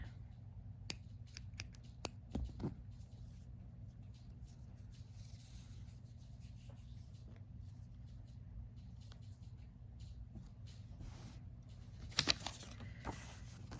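Scissors snip through crochet yarn in a few faint, quick cuts over a steady low background hum, with no talking.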